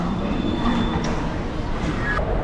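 The 13017 Ganadevata Express pulls out of platform 6 at Howrah station on a foggy early morning, a steady, loud rail rumble with faint wheel squeal and indistinct voices mixed in.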